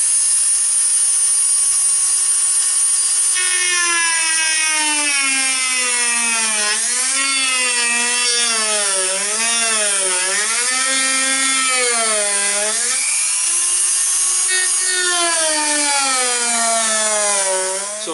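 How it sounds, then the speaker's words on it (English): A Dremel rotary tool cuts through a Glock 17 polymer frame with a loud, steady high-pitched whine that wavers in pitch as the bit loads and frees up, close and continuous for many seconds. "So a note on the Dremel tool here. So higher speed works better."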